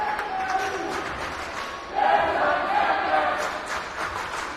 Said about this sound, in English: I've never been a fan of that cheer